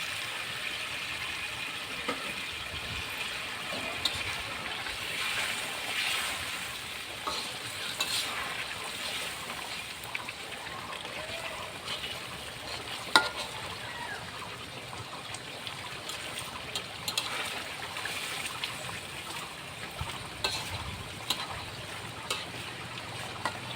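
Silvercup fish fries and is stirred in a pan for a dry dopiaza, with a steady close sizzle and continuous scraping, stirring sounds throughout.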